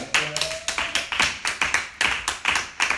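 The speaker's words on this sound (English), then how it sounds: "Come on, clap for it." Rhythmic claps from a crowd at a motivational talk, a steady run of sharp hand claps about every third of a second, fairly close and clear, with no talking over them.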